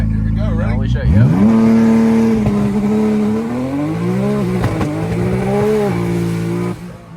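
A 2000-horsepower Nissan GTR launches on a rolling anti-lag pass, its engine note climbing hard and holding a loud, steady roar for several seconds, with excited voices talking over it.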